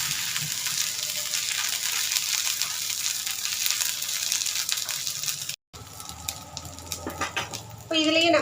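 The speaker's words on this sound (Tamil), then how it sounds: "வெங்காயம் இந்த அளவுக்கு கொஞ்சம் ஃப்ரை ஆனதும் இதில் கொஞ்சமாக இஞ்சி பூண்டு விழுது போட்டுக்குங்க" Onions frying in a pan with ginger garlic paste added, a steady sizzle and crackle throughout, broken by a brief gap and then stirring and scraping sounds as the sizzle continues.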